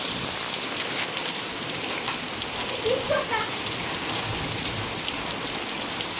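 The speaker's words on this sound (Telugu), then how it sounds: "వర్షం చూడండి. ఐస్ గడ్డలు పడుతున్నాయి." Heavy rain mixed with falling hailstones at Durgapur Ukhra, a dense steady hiss of drops striking surfaces with no talk.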